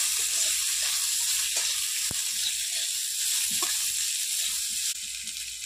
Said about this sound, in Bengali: তারপর দিয়ে দিলাম গাজর, গাজরটা একটু ভালো করে ভেজে নেব।